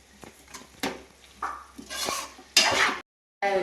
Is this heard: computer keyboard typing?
no